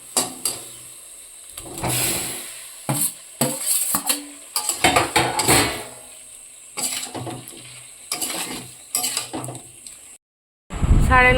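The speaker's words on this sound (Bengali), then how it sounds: "এদিকে মশলা কষাচ্ছে" Spices being fried down in a pot for an Indian-style egg curry in a home kitchen, heard as bursts of stirring, scraping and clanking of utensils against metal over a steady background hiss, close by.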